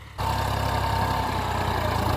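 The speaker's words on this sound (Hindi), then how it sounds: "तो ये देखें जी ट्रैक्टर जो है मेरी तरफ आ रहा है और ये चल रहा है जी सुहागा।" A tractor pulling a suhaga soil leveller across a farm field rumbles in with a low, steady engine drone that starts abruptly and stays loud and even, with no talking.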